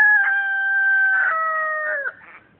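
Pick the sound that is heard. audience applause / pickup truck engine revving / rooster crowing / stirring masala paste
rooster crowing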